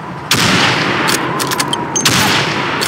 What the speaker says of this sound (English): Good, now fire.